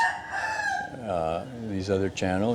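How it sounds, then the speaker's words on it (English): A rooster crows loudly and close by, a long drawn-out call followed by a couple more rising crows in quick succession. "Excuse the rooster, right next door here."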